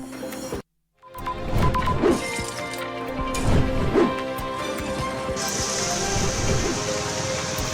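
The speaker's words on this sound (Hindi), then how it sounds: "दिल्ली एनसीआर में सुबह की शुरुआत झमाझम बारिश के साथ हुई है" Heavy morning rain over Delhi NCR hisses steadily and loudly after a brief silent gap, with a few sharp crashing impacts rising through the downpour.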